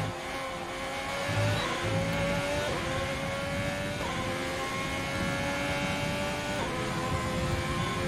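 An F1 race car from the F1 2020 video game on a qualifying lap, its engine whining loud and steady with rising pitch sweeps through gear changes and a few brief dips.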